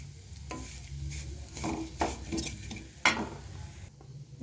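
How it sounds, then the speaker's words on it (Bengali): Lachha frying in a little cow ghee for payesh, stirred until reddish-brown: a soft, close sizzle broken by distinct spatula scrapes about once a second, no voices. "অল্প গাওয়া ঘি দিয়ে ভালো করে নেড়ে চেড়ে নেবে লাল করে"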